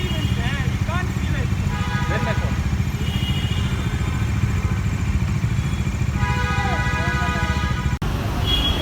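A Bajaj Dominar 400 motorcycle on a test ride, its engine running at a steady low throb through the whole stretch, with voices talking over it and occasional tooting from passing traffic.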